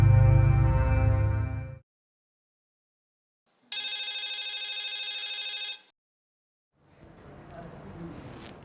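A telephone rings in two separate bursts of electronic trilling, clear and close, with silence between them, followed by faint low background noise.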